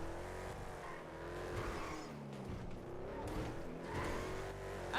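A video game car engine in GTA 5 hums and revs steadily at moderate volume, the pitch rising and falling as it drives, with no one speaking.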